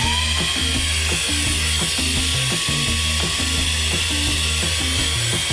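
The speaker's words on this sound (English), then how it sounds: "Higher level is this." At its higher power level, an ILIFE H70 cordless vacuum cleaner gives a loud, constant motor whine with a busy rattling mechanical texture underneath, running unbroken throughout with no talking.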